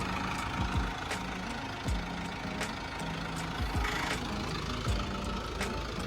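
A 2003 Isuzu Fuego pickup truck engine idles steadily with a low, rhythmic chug and periodic knocking pulses, fairly close and without talk.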